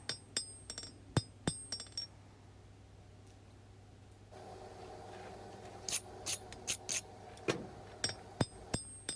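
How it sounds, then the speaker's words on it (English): Hand hammer blows on a hot steel chef's knife blade being forged, sharp metallic strikes in irregular clusters, with a stretch of steady hiss mid-clip before the clanging hammer hits resume, loud and close. "Trying my best to do clean forging so I don't have to do a pile of grinding here."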